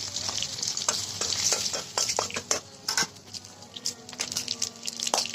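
Dry red chillies, bay leaves and whole cumin tempering in hot oil for a fish-head kalai dal, a bright hiss of frying with utensil clinks and scraping against the pot.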